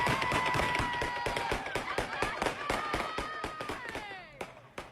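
New Year's Eve celebration gunfire or fireworks: a steady barrage of sharp pops and cracks, some near and some farther off, under a continuous whistling, tonal background din.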